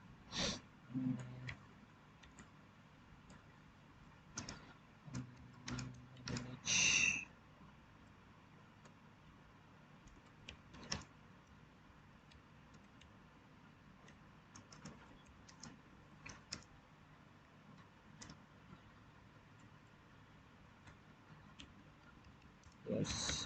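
Scattered keystrokes on a computer keyboard while typing a message in MS Word come in short bursts separated by quiet gaps, faint and close, with occasional louder clicks.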